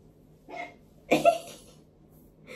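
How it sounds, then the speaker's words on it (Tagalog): A dog barks a few times indoors, short sharp yaps with pauses between, fairly close and alone without talk. "Tumatahol."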